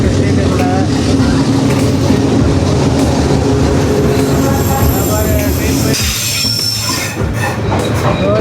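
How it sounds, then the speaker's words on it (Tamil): A train in Vietnam rumbles past close by through a narrow street with loud, steady rolling and faint wheel squeal, while someone talks over it. "ட்ரெயின் வந்துட்டுருக்கு பாருங்கள்"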